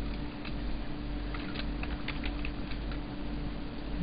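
Fast, light tapping on a computer keyboard at a steady pace, faint against a constant low electrical hum.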